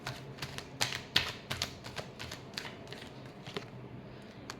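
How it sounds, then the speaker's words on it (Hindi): Tarot cards being shuffled by hand: a run of crisp, rapid riffling and flicking snaps in quick irregular bursts, close and fairly loud, with no talking. "last shuffle"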